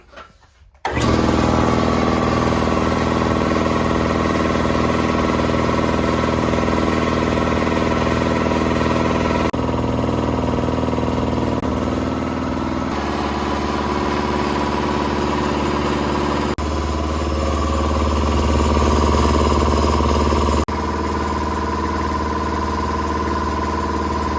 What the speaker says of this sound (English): Compressor's all back together.